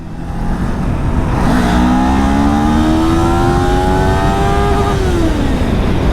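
A Yamaha R3 sport bike in first gear revs hard, its engine note climbing steeply to a high scream of about 13,000 RPM before dropping away, loud and close with road noise underneath.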